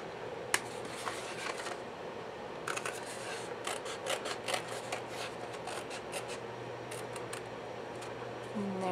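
Scissors cut a section from a tissue holder craft piece in a short burst of crisp, close snips and rasping blade strokes over a low steady hum.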